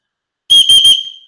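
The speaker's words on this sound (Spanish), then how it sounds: "Tiene aquí un silbato. Esto es un silbato." A small whistle built into a survival bracelet gives three quick, shrill, high-pitched blasts close by, the final one tailing off.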